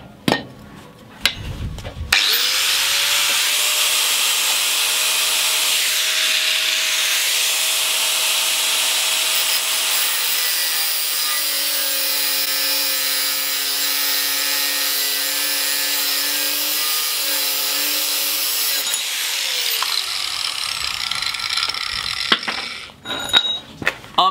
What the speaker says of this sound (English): I'm going to try and fabricate one out of a battery drill and a grinder.